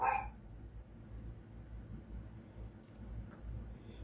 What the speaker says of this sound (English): Can y'all hear my little dog in the background?